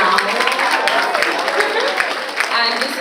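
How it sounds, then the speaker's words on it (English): Audience at a tech talk on personal branding clapping, a dense patter of hands with crowd murmur and some voices mixed in, fairly close and even in level. "Clap for me now."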